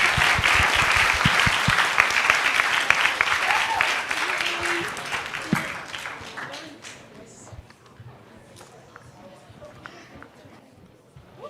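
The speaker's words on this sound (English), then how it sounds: "can we have another round of applause for our speakers?" A conference crowd applauds loudly for several seconds for the speakers, then the clapping thins out and fades to scattered claps with some murmuring.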